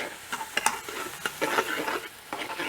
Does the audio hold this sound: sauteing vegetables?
yes